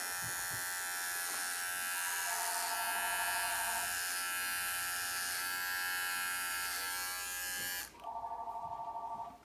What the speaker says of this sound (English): I will be doing a deep skin scraping, and I will shave a little area back here